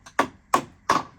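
A new hammer taps a Delta Membrane plug three times in a steady rhythm, each blow a sharp, close, woody knock that quickly fades, with no talking.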